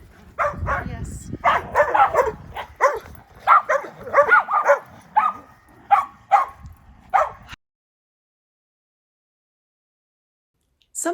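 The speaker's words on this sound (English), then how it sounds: "I'm sure the neighbors really appreciate all your barking." A dog barks and yips in a string of excited, close bursts, with a voice mixed in, then goes quiet before a final short bark at the end.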